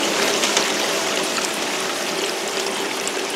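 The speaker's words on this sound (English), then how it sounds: "water is everywhere from off this pump plate" Water pours and splashes continuously off the pump plate of a Geosluice highbanker while it washes material for gold, a close, steady, hissing rush with no pauses.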